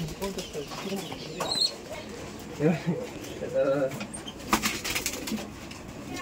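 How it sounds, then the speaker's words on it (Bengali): Pigeons on a farm holding about sixty pairs coo softly at moderate distance, with a few wing flutters, while people talk over them. "এই যে এখানে কিছুটা কবুতর আছে"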